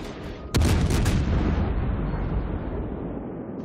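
A battleship's main-gun salvo in World of Warships erupts in a sudden loud boom just after the start, followed by a few quick cracks and a long rumbling decay that slowly fades.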